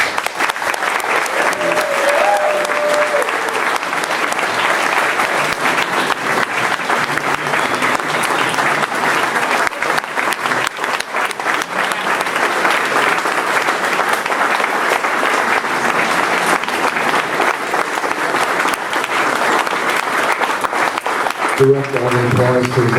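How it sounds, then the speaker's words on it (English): Sustained audience applause at a hall of fame ceremony, a dense, even clapping that carries on steadily without a break, with a few faint voices near the end. "Direct all the applause to his amazing parents and family in the back."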